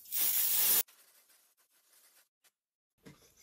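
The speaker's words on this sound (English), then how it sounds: "I think I just sprayed it a little bit on my head." Avon Elastine dry shampoo sprayed from an aerosol can onto hair in one loud, close hiss lasting nearly a second, followed by quieter rustling and a brief second faint spray near the end.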